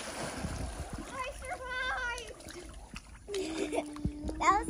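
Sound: child splashing in water while swimming

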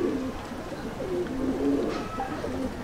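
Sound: home-bred Dabbwale pigeon chicks

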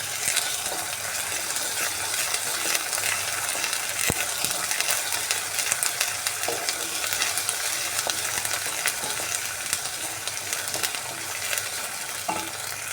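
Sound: frying ginger paste in a pan for potato carrot curry

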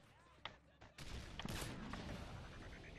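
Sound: sniper rifle shots in the video game Modern Warfare 3

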